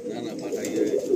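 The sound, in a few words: pigeons in a pigeon loft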